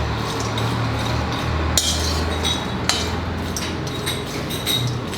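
Bombil fish dry-roasts in a pan over a medium flame, with a low steady hum and a few sharp metallic scrapes and clinks from stirring.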